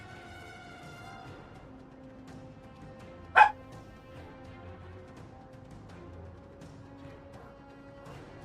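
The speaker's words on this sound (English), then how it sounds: "Hold on, Sammy's barking." A single sharp dog bark cuts in once indoors, brief and fairly close, over a quiet, humming room with no one talking.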